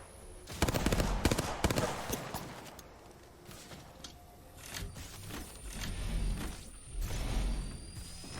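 Gunfire during an Apex Legends esports match: rapid bursts of automatic shots clustered early, then intermittent volleys and mechanical clatter, fairly faint and distant.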